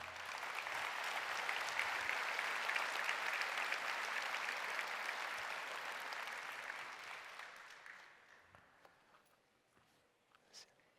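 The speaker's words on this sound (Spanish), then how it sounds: "Fuerte ese aplauso para" Sustained applause from a church congregation during a sermon, dense and steady for about eight seconds before thinning out and fading into quiet room noise with a few stray claps.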